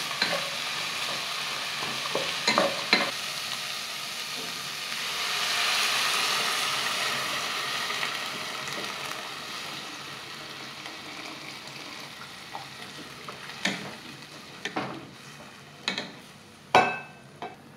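Chicken and tomato soup with garlic comes to a boil in a pot, giving a steady soft bubbling and simmering hiss, with a few light clinks of utensils near the end and no talking.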